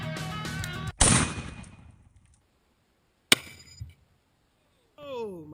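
Gunshots outdoors in nature: a sharp loud blast that rings out and decays, a second sharp crack a couple of seconds later, then a voice calling out at the end.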